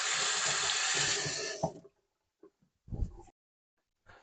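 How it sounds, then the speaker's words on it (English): Tap water runs steadily into a sink as hands are washed, then the faucet shuts off, leaving a few brief splashes and clunks. "All right, let's wash our hands."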